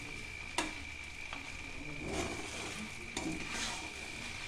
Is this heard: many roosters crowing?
no